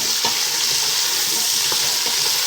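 Beef stew meat sizzling and frying in a pan, a continuous bright hiss with occasional stirring scrapes, close and loud with no talking.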